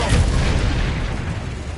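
A spell blast from the Hogwarts Legacy video game, a loud booming burst at the start that rolls into a dense, rumbling decay over nearly two seconds, with no talk over it.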